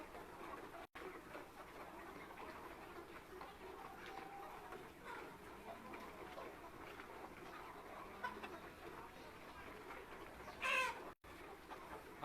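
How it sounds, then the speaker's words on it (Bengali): Seventy-day-old tiger-breed chickens on a farm cluck softly and continuously, with a few sharper calls standing out near the end against a quiet ambient hum. "আপনারা যে টাইগার মুরগিগুলো দেখতে পাচ্ছেন"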